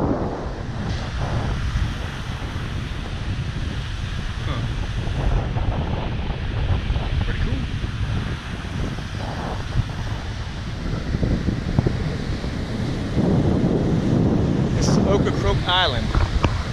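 Ocean surf and strong wind on the shore of Ocracoke Island, reached by ferry, with a steady wash of breaking waves and heavy wind buffeting the microphone throughout; people talk briefly at times.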